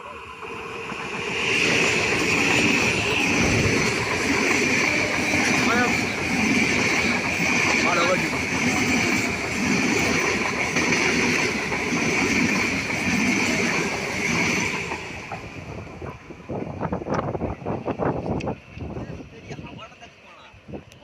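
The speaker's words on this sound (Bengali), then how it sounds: "দেখো আবার একটা ট্রেন আসছে" A train rumbles past close by with a broad, steady roar and clatter for about fifteen seconds, then fades while wind buffets the microphone and a person talks.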